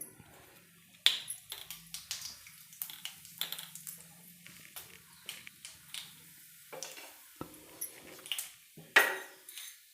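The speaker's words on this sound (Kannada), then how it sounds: "ಸಾಸಿವೆ ಹಾಕ್ತಾಯಿದ್ದೀನಿ." Mustard seeds dropped into hot oil in a pan on the stove pop and spit in sparse, sharp, irregular crackles and clicks over a quiet low hum, close by and without talk.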